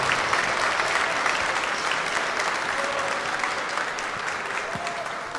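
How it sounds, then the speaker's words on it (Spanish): An audience applauds an illusionist at a live show, with steady, dense clapping that fills the room at a loud, even level throughout and no talking over it. "Fuerte el aplauso, por favor, para Kirio"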